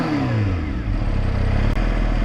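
A Kawasaki H2R motorcycle engine, a four-cylinder 1000cc with a noisy exhaust, revs loudly and close, its pitch sweeping upward then holding a steady rasping drone.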